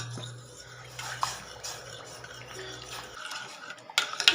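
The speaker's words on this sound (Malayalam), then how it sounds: "ഇളക്കി യോജിപ്പിക്കാം." A spoon stirs orange custard pudding mixture in a pot, soft scraping and light clinks against the metal, quiet and close, with a few sharper taps near the end.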